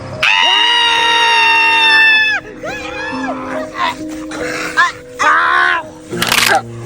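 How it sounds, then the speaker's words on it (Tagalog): A woman screams in a Filipino horror drama about a water creature, a loud sustained shriek followed by several shorter anguished cries and wails, close and harsh. "Hala, bakit parang may sumisigaw?"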